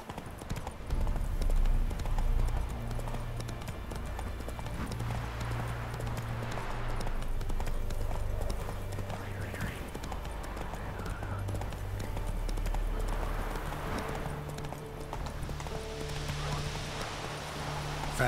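In The Witcher 3, the horse Roach gallops with a continuous rhythmic thud of hooves, moderately loud under game ambience and faint environmental noise.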